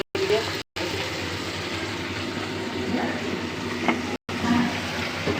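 Curry simmering in pure mustard oil, a steady close bubbling and sizzling hiss that runs unbroken except for a few brief dropouts.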